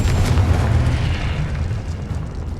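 A Confringo blasting spell explodes in Hogwarts Legacy, a loud, booming blast that rolls and fades over a few seconds, heavy in the low end, with no voices over it.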